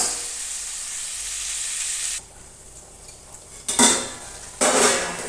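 Okra (bhindi) fries in oil in a pan, first a steady, hissing sizzle, then quieter moments broken by two sharp clatters of a metal spoon scraping and stirring.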